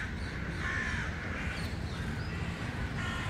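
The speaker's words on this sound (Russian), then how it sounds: "Вороны каркают вовсю." Crows cawing in a city park in Izmir, Turkey, several harsh caws rising over steady traffic rumble from a nearby street.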